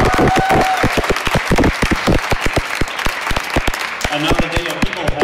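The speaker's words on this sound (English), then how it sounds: "I think we can have a round of applause for all four of our speakers" A debate audience applauds its four speakers, with clear individual hand claps sounding at first, then thinning toward the end, where a voice briefly comes in.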